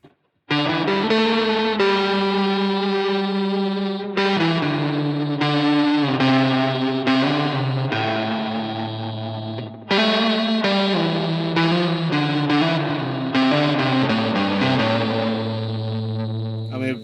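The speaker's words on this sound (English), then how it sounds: "Let's take the distortion down a touch, and let's add some other things. Let's add a bit of reverb and some chorusing into that as well." Electric guitar played through a Sequential Pro 2 synthesizer used as a processor, with distortion, reverb and chorus: sustained, harmonically rich chords changing every few seconds, loud and continuous with a short break near the middle.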